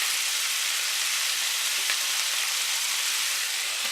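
Chicken pieces fry in a pan for noodle soup, a steady, dense, hissing sizzle close up that stays even throughout with no voices.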